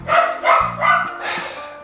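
A dog barks four times in quick succession, loud and close, each bark a sharp yelp with a short pause between, followed by a drawn-out final bark.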